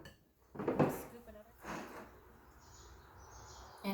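A few sharp clinks of a utensil tapped against a mixing bowl while making playdough with flour, close and fairly quiet, with a soft scrape and light handling sounds between them.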